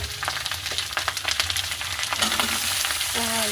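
Onion, green chili and cumin frying in a hot kadhai, crackling and popping close up with bursts of sizzle and stirring, growing steadier toward the end.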